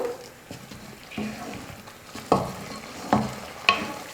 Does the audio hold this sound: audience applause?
no